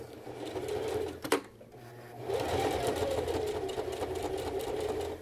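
A sewing machine stitches through layered fabric on a garment fly, running steadily, pausing briefly with a sharp click, then resuming a continuous close whir.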